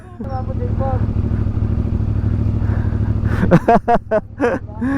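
A heavy big-bike motorcycle rumbles steadily at low revs on a mountain road in Benguet, then gives several sharp, loud throttle blips near the end.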